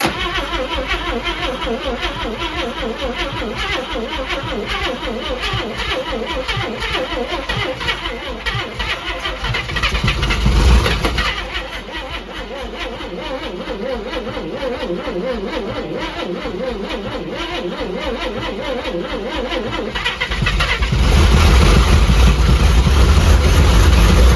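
An old Tri Five car that sat unused for 37 years cranks and runs roughly, a loud, steady, rumbling engine with a brief surge near the middle and a louder rise toward the end.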